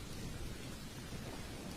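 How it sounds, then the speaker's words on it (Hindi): Heavy rain pours steadily through a cartoon forest storm scene, with low thunder rumbling continuously beneath the dense hiss of the downpour. "बारिश तेज हो रही थी"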